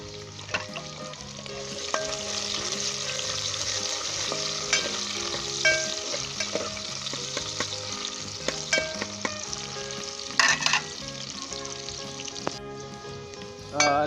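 Garlic and onion fry in a pan for a chicken drumstick shorba, a steady close sizzle that runs throughout alongside clinking and scraping, with no voices.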